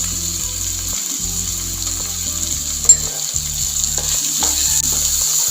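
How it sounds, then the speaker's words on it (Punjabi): Chopped capsicum, onion, tomato and green chillies frying in a pan for farfalle pasta give a loud, steady, close hiss, with a low pulsing mechanical hum running underneath throughout. "ਸ਼ਿਮਲਾ ਮਿਰਚ ਪਿਆਜ਼ ਤੇ ਟਮਾਟਰ ਨੂੰ ਆਪਾਂ 2-3 ਮਿੰਟ ਲਈ ਭੁੰਨ ਲਾਂਗੇ"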